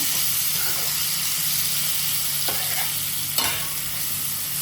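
Cut banana pieces frying in a pan give a steady, loud sizzling hiss throughout, with a couple of brief scraping stirs partway through and no voices.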